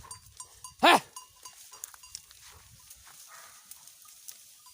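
A goat on a goat farm in Nepal gives one short, loud bleat near the microphone, with only faint farmyard background before and after.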